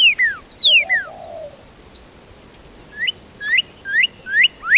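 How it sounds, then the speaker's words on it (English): Small baby bird chirps while hopping around near the nest, a few quick descending calls early, then a steady series of short rising tweets repeating about once every half second, fairly close. "It's hopping around, chirping at him."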